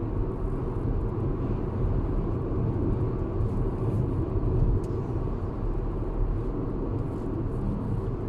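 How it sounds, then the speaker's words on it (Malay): A steady low roar of tyres on the road fills the cabin of a Proton X50 SUV, constant and unbroken, with no talk. "bunyi dia datang daripada tayar"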